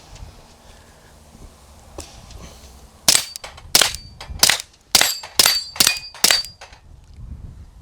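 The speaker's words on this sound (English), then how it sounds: "We're gonna shoot this plate rack real quick" Flux Raider backpack gun firing at a steel plate rack: after a quiet start, a rapid string of sharp gunshots each followed by a bright metallic ring of struck steel plates, loud and close, with no talking.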